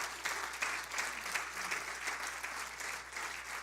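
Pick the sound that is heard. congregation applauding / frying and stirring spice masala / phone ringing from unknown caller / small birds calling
congregation applauding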